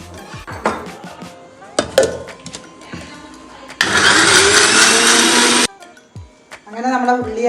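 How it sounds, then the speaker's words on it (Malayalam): A kitchen mixer grinder grinds sautéed onions for chicken kurma in one loud, steady whir lasting about two seconds, with clinks of utensils and handling sounds before and after it. "ഇനി നമുക്കിത് അരച്ചിട്ടെടുക്കാം."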